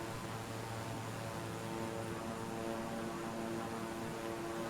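Steady propeller aircraft engine drone in Microsoft Flight Simulator 2020 over the Los Angeles skyline, throttled back during turns, a continuous broad hum and hiss with no talk over it.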